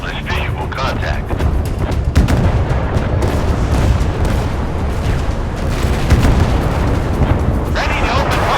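Warship guns firing in the naval video game Force of Warships, with repeated booming shots and rumbling blasts that continue throughout, mixed with game noise and short voice lines.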